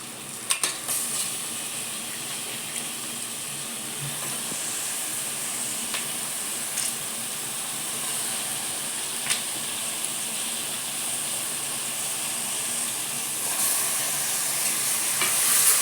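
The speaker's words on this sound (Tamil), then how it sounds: "கறியை மட்டன் நல்லா எண்ணெயில் வதக்கி போட்டுடலாங்க" Mutton frying in oil with spices for a curry gravy: a steady, close hiss of sizzling with a few faint stirring knocks, continuous and fairly even in level, with no talk.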